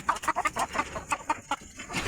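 Hens cluck in quick, irregular bursts close by, beside a six-egg nest where they are settling to brood, several soft repeated clucks following one another with brief pauses.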